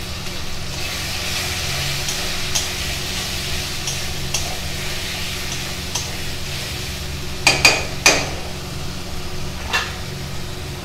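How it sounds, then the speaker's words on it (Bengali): Chicken pieces seasoned with salt and turmeric fry in a pan while being stirred: a soft, steady sizzle, with a short cluster of sharp utensil clinks and scrapes against the pan toward the end. "একটু নেড়ে নেব।"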